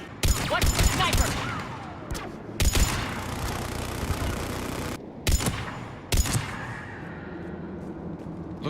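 Sniper gunfire in the shooter game Mass Effect 3, with several sharp loud shots spaced a second or more apart and long echoing decays between them over a rumbling battle backdrop.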